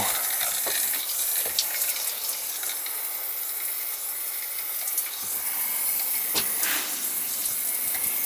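Hot water gushing and spraying steadily from a leaking shark bite push-fit plumbing fitting, a continuous hissing splash close by with a few brief knocks and no talking.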